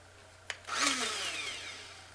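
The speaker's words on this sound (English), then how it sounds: "I just stuff it into the coffee grinder, give it a couple of zings" A coffee grinder whirs up to speed on cut-off pieces of material after a sharp click, a single loud, close burst of motor noise holding steady to the end.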